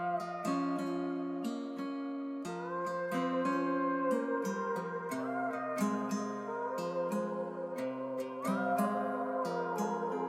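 A pitched-up, reverb-washed vocal sample floats over a plucked guitar loop, the guitar's repeating chords and bright picked notes steady beneath gliding, held vocal tones, music only with no talking.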